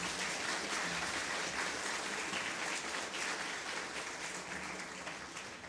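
A large audience at an engineers' conclave inaugural session claps for the dignitaries, a continuous wash of many hands heard from some distance, fairly soft and slowly easing.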